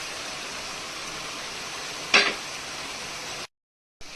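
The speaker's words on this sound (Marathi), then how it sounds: "आता ही आपली काजू, आता सगळं मस्त फ्राय झालं" Cashews fry in a pan with a steady, close hiss. A single sharp utensil clink sounds midway, and the sound cuts out briefly near the end.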